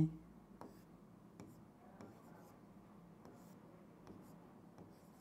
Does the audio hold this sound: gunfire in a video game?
no